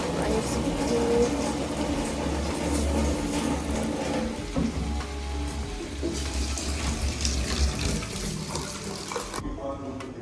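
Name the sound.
water added to pan of sautéed fish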